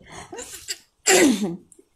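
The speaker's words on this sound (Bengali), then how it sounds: "আপনার সাথে কথা বলতে আসলে আমার এত কাশি আসে কেন।" One sharp, loud cough bursts out close by, following a few soft breathy vocal sounds and trailing off into quiet.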